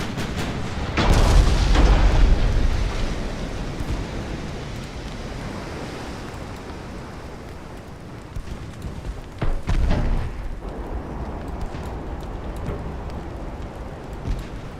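Warship guns firing in a naval battle game, heavy booms at the start and again later, with rumbling aftershocks over a constant wash of ocean surf and wind.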